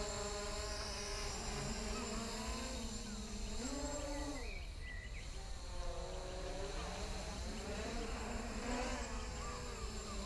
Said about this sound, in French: Il vole bien ce petit Bugs